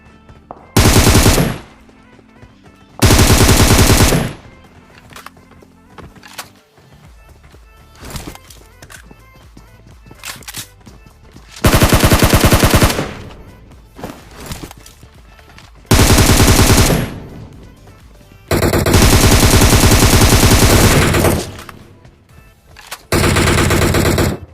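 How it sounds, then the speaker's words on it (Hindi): Loud machine gun fire in a video game comes in several separate long bursts, each a rapid run of shots, separated by quieter stretches of game ambience. "मैं अंधी फायरिंग किए जा रहा था"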